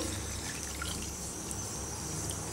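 Soft trickling of water pouring steadily into an ivy gourd curry in a pot, quiet and close, with faint low rumble underneath.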